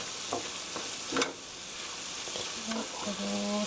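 Black soybean paste for jajangmyeon is stirred in a hot pan, a steady sizzle and fry with scraping and clinking spatula strokes over a constant hiss.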